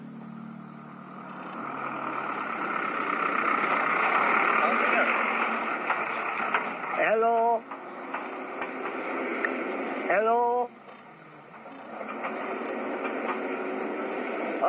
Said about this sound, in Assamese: ৰ'বা গাড়ী এখন গৈ আছে বাবা শুনা নাই